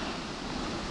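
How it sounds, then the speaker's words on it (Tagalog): Steady broadband roar of rushing water, dense and continuous like a nearby waterfall, with no voices. "Ang lagas-las ng tubig. Pala talaga."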